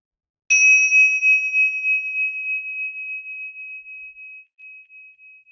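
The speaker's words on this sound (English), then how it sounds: "So here comes the bell." A meditation bell is struck once, giving a clear ringing tone that sustains and slowly fades with a gentle pulsing shimmer over several seconds, heard alone in a quiet room.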